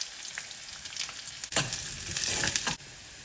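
Curry leaves and onion frying in hot oil for a tempering, a bright crackling sizzle that surges louder midway, with scraping stirs and brief clatters, no voices.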